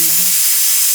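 Gujarati kadhi boils vigorously, giving a loud, steady sizzling hiss with spluttering bubbles close by and no talking.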